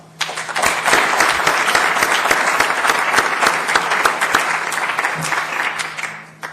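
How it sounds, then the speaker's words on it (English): An audience at an eBusiness event applauds an introduced chairman, a full, dense round of clapping that swells quickly, holds steady and tapers off near the end. "give him a round of applause"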